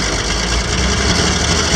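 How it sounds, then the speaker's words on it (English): A Ford F150 truck's spinning drive shaft, a loud continuous mechanical rumble and vibrating whir, steady and close, alone without talk. "I think your drive shaft's still spinning."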